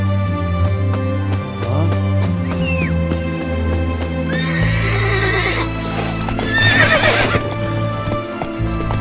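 Horse in Witcher 3 galloping with rapid clip-clop hoofbeats over steady game music, then a loud, close neigh partway through.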